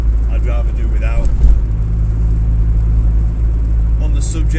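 Steady low rumble of road noise inside a Honda Civic EG fitted with an H22 engine while driving, loud and constant with a deep droning hum, and a voice talking briefly over it near the start and end.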